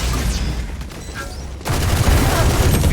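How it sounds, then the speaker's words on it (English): Gunfire in the video game Valorant shot through a wall: a continuous crackle of game noise, then a louder dense volley of shots in the second half, sounding close. "Apparently you could wallbang through this wall."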